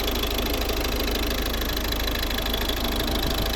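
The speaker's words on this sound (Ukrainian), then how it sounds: "Дуже класно працює двигун." A 2011 Volvo V50 1.6 D2 diesel engine idles steadily with a constant low rumble and a faint rhythmic knock, close up and unchanging.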